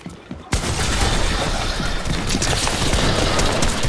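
Sudden burst of rapid, dense gunfire in the game Fortnite erupts after a quiet moment and continues loudly as a sustained crackling barrage.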